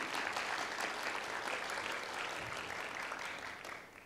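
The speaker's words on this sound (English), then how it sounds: "go ahead and applaud for our chiefs" A room full of people applauds, a dense steady patter of clapping that slowly fades toward the end.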